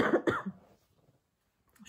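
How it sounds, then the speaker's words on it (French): A woman coughs twice in quick succession, close and fairly loud, and the sound trails off into near silence before a faint noise at the very end. "Je suis désolée, je tousse de plus en plus."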